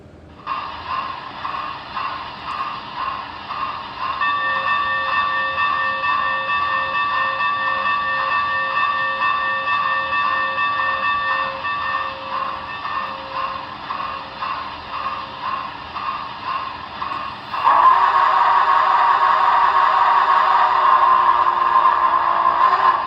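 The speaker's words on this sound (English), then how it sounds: "we can listen to the bell and the whistle and get this train pulled out of here" A model Big Boy #4014 steam locomotive's steady clanging bell and chugging rhythm run for a while, then a loud sustained whistle blasts in near the end, all mechanical and close.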